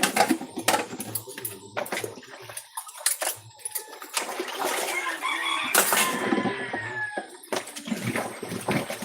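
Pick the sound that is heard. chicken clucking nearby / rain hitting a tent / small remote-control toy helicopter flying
chicken clucking nearby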